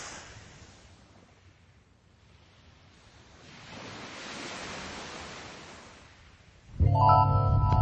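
Mediterranean surf washes onto a shallow beach in a broad hiss that slowly swells and fades, with wind rumble across the microphone, before a loud, abrupt noise cuts in at the end.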